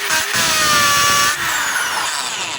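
A DeWalt DWD024 half-inch hammer drill runs in hammer mode with a loud, steady high-pitched whine and rattling hammer action, easing slightly near the end, with no voices over it.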